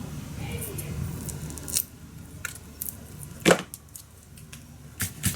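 Scissors snip through paper for a large wedding mini album, with a few distinct, crisp cuts spaced apart over a quiet background.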